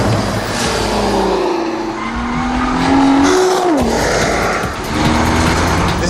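A Nissan GT-R on a race track roars under hard driving while its tires squeal in long rising and falling tones, the engine note loud and close throughout.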